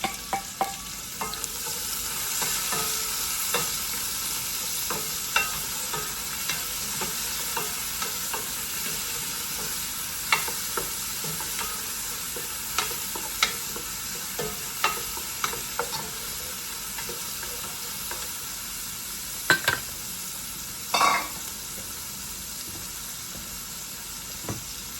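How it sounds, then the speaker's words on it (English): Onions frying over high heat in a pan for spicy Filipino beef caldereta, a steady close sizzle with scattered stirring clicks and scrapes running throughout, no voices. "So now we add our onions."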